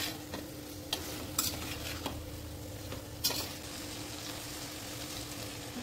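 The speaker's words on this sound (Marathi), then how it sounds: "कोथिंबीर आणि वांगे टाकून अजून थोडा वेळ परतून घेऊ" Eggplant and coriander sauté quietly in a pan, with a soft sizzle under several crisp spatula scrapes and clinks against the metal, close by and without talk.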